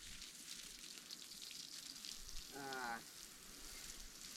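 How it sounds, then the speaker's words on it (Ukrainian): Water spraying onto solar panels to wet them before washing, a steady hiss like rain on a surface running throughout, with a brief tonal sound near the end. "Спочатку ми їх намочимо, щоб вони трохи откисли"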